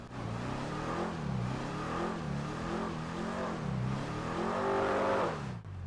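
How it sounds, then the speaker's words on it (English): The Z-Type car in GTA 5 Online revs its big engine in a continuous drone that swells and dips in repeated waves, steady and up close for several seconds. "Yep, that's definitely a big ol' engine"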